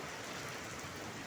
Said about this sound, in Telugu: వాన తగ్గలేదండి